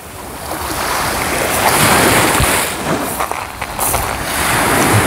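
Waves wash steadily onto the Azov Sea beach at Golubitskaya, a loud continuous rushing surf with broad hissing swells and some wind buffeting, with no voices.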